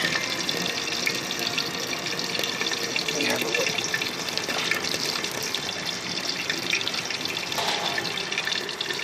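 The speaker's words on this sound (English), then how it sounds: "We're getting hot water out of our heat exchanger" Hot water gushes steadily from the heat exchanger of a waste-oil-burning water heater, a constant close rushing flow with someone speaking briefly over it.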